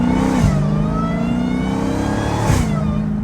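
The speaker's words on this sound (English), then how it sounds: "y'all hear the big Hellcat" Dodge Hellcat engine revving loudly and close, a steady deep roar with two brief dips and swells in pitch as the throttle blips, no talking.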